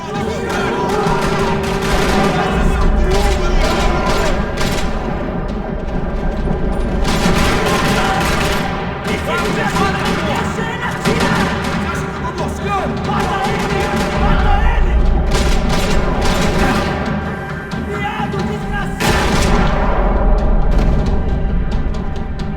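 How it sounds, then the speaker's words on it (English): Continuous rattling gunfire and booms pound without pause over a dense, loud background of music and effects, in a parking lot battle in Max Payne 3. "Another parking lot rattling with gunfire."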